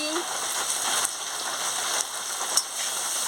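Pieces of elephant apple (chalta) fry in hot oil in a pan with turmeric, a steady loud sizzle and crackle that hisses continuously up close, with a few sharper pops.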